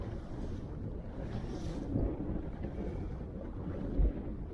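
A boat motors out across a lake, its engine a low, steady rumble mixed with wind buffeting the microphone, continuous and fairly quiet, with no speech.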